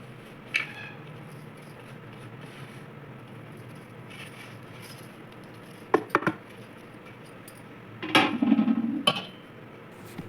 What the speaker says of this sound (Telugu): 10 వెల్లుల్లి రెబ్బలను కచ్చాపచ్చగా దంచి పొడిలో కలపాలి